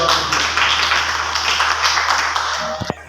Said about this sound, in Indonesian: Tepuk tangan untuk Mbak Widya